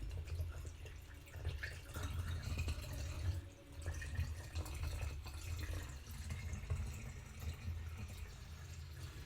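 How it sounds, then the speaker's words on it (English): Plain flavored mature kombucha being poured into a bottle for secondary fermentation, a continuous soft splashing trickle that runs steadily for several seconds, close but quiet. "I'm going to take my already mature but plain flavored kombucha and just pour it all in."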